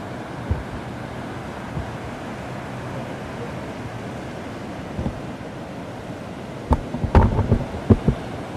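Ocean waves wash onto a beach as continuous broadband surf roar, with a few sharper crashes and thumps near the end, captured on a Zoom Q4 recorder fitted with a wind protector.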